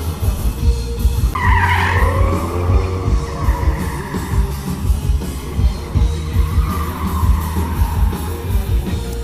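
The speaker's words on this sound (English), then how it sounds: "When they come by and peel rubber out, it sprays in your face." At a SEMA 2016 stunt driving demo, a car peels rubber with loud rising and falling tire squeals over a throbbing engine, close by and sustained across the clip.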